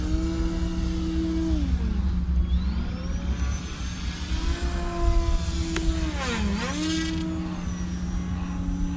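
A Turbo Timber Evolution RC plane on floats flies overhead, its electric motor whining in a steady drone that rises and falls in pitch as the plane swoops past and banks.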